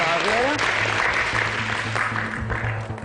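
A studio audience on a Georgian truth-confession TV talk show claps in a steady, dense wash, with voices speaking over the applause throughout.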